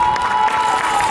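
A crowd claps and cheers for a team at a youth blitz chess tournament's award ceremony, a brief, loud burst of dense applause in an indoor hall.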